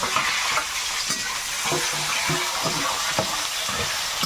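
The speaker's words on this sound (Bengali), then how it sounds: "একটু গোটা গরম মশলা দিলাম তেজপাতা পেঁয়াজ কুচিটা দিয়ে দেবো" Chopped onion sizzles steadily in hot oil with whole garam masala spices and bay leaf, a continuous close frying hiss with occasional stirring scrapes, no talk.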